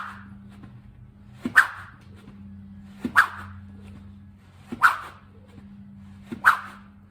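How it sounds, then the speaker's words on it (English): A golf club swung at speed during a transition drill gives four sharp whooshes spaced about a second and a half apart, each a quick swish that peaks and fades, over a low steady hum. "We're hearing the whoosh out in front of us."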